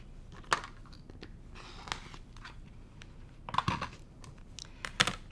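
Vinyl being trimmed along its edge for a zippered project bag: a series of sharp, close cutting snips and crisp crackles, spaced irregularly, with quiet handling in between.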